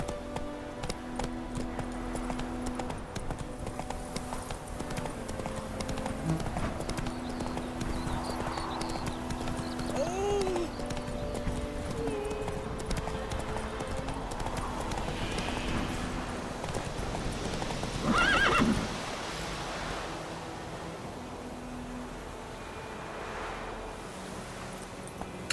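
Horse galloping in The Witcher 3 video game, a continuous rhythmic clip-clop of hooves at a steady fast pace, with a brief whinny and game ambience layered over it.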